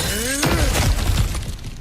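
In the video game God of War Ragnarok, an object smashes apart with a loud crash and shattering debris that scatter and fade over about a second, following a brief tonal sound.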